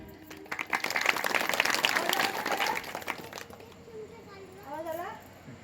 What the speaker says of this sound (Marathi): टाळी वाजवा बरं.